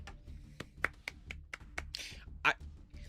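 A single person claps their hands a handful of times in an irregular rhythm, sharp quiet slaps close to the microphone with small noises between them.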